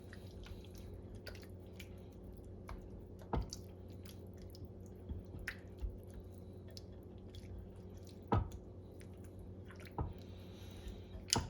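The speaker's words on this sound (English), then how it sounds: "We're going to give that a quick stir. Combine everything." Tomato sauce with onions, peppers and garlic being stirred in a pan for chakchouka, a quiet wet simmer with soft squelching and a few sharper drips or scrapes scattered throughout.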